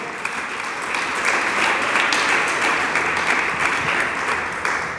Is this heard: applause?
yes